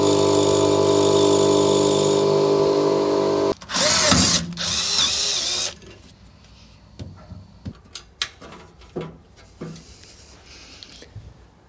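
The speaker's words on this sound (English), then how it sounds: "So I just need to drill and tap two holes." A power drill boring a hole in a car panel during a brake line fit-up: a loud, steady whine for about three seconds, then two short grinding bursts, followed by quieter clicks and handling taps.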